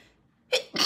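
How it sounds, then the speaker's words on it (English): A person sneezes once up close, a short intake followed by a sharp, bright burst of breath, loud against near silence. "I'm going to sneeze."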